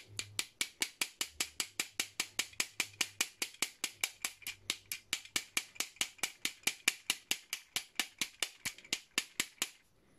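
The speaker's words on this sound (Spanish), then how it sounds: "Vamos a seguir pegando hasta que siga, hasta que saque el otro perno." Rapid, evenly spaced metallic impacts, about forty in ten seconds, as a part is struck repeatedly to drive out a bolt while fitting an SND-04 X-Mortis upgrade kit; the blows are sharp, close and steady with no talk.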